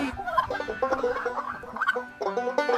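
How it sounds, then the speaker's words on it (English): A turkey gobbling in a quick run of short, throaty, warbling calls that repeat in bursts, fairly close and clear, with no voices over them. "T, T, turkey. Gobble and say T."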